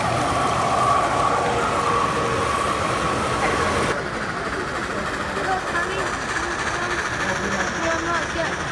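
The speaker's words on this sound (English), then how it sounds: "It's a long train." A long Pere Marquette steam train rolls past at a train show, a steady broad rumble and rail clatter that holds loud throughout, with a voice and other talk over it.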